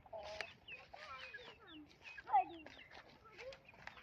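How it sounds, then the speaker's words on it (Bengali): Large chickens cluck and chatter nearby in a farmyard, a quiet run of short overlapping calls, with a person talking over them. "কত বড় বড় মুরগি।"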